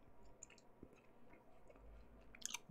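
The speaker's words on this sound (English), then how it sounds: "I'm also going to be chewing gum, and just forewarning, this gum is tough, so it's going to be a little loud." Tough gum chewed close to a microphone gives quiet, wet clicks and squishes in an irregular rhythm, with a louder smack near the end.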